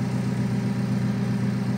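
Low, steady idle of a 2016 Alfa Romeo 4C Spider 1750 through its dual exhaust, a smooth even rumble heard close up and alone, without revving.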